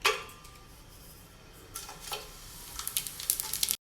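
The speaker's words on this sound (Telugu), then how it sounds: "హోల్ గరం మసాలా వేసిన తర్వాత లైట్గా ఫ్రై చేసుకోవాలండి" Whole garam masala frying lightly in ghee, a soft, quiet sizzle with a few faint clinks of a spoon against the pan toward the end, close and without talking.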